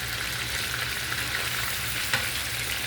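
Kebab pieces fry in hot oil with a dense, steady sizzle, a soft scrape and clack sounding once as pieces are turned, close up and with no talking.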